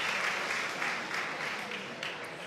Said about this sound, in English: First of all, your applause for both fighters.